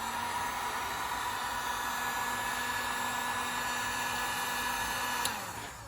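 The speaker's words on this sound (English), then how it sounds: "Okay, and just hit it and use the heat gun." A heat gun blows steadily on fresh spray paint to create a wrinkle finish on Can-Am X3 XRS parts, a loud constant whooshing hiss with a faint tonal hum that cuts off abruptly near the end.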